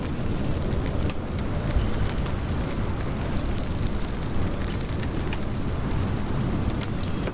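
A bushfire advancing in the video game Paperbark, a loud, dense and continuous roaring crackle that stays at an even level throughout, with no voices.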